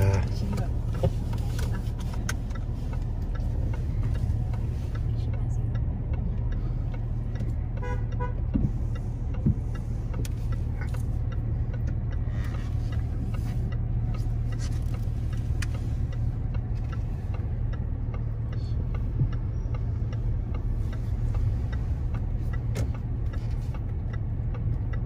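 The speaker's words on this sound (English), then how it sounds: "So we're gonna drive off" A car pulls away on a road in Phnom Penh, Cambodia, its engine a steady low hum heard from inside, with a faint horn toot and people talking throughout.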